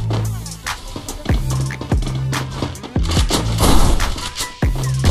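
Dense gunfire in the Free Fire mobile battle royale game, loud, sharp repeated shots and bursts over continuous game noise, with a few heavy reports standing out.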